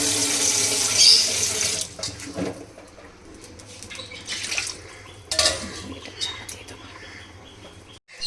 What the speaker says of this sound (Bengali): আর একটু জল দেবো, কারণ এটাও সেদ্ধ হবে